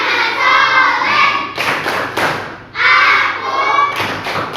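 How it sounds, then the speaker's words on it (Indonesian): A group claps along to the 'tepuk anak soleh' clap chant, with loud, close clap bursts set between stretches of chanted voices in a repeating rhythm. "kita berikan dulu tepuk anak soleh"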